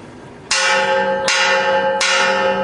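Church bells ring out from a bell tower in Vigan, Ilocos Sur, calling people to mass. Three loud, close strikes sound about a second apart, each leaving a long shimmering ring that overlaps the next.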